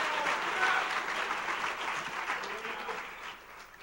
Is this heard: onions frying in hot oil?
no